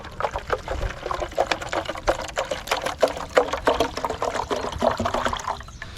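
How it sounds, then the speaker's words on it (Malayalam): Water runs and splashes steadily into a bottle, a continuous pouring trickle with small bubbling bursts throughout, close by. "കുപ്പിയിൽ വെള്ളം നിറച്ച് വയ്ക്കുക"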